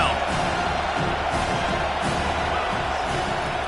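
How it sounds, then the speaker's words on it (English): A college football stadium crowd at Auburn versus Miami roars and cheers on a third-down defensive stand, a dense steady wall of noise with scattered whoops, loud and sustained throughout. "Decibels rising as the crowd gets behind this defense on 3rd down."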